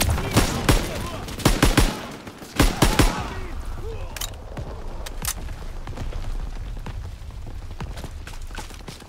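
Gunfire in the WWII shooter Call of Duty: WWII: sharp, loud bursts of rifle and machine-gun fire crack in quick clusters early on, then fade into scattered shots and battle rumble, with voices shouting orders over the fighting.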